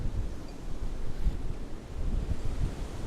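Wind gusting across the microphone in Giethoorn, a steady low rumbling roar that fills the whole clip with no voices.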